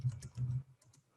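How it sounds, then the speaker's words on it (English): Keys are tapped on a computer keyboard in two short bursts of soft, close clicks, followed by a few fainter taps. "if I start typing like in the middle of it"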